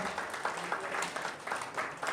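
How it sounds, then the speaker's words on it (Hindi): A theatre audience in Lucknow applauds after the play 'Sarhad', many hands clapping in a dense, steady wash at moderate distance, with faint voices underneath. "तो भैया तालियां जरूर हो जाए"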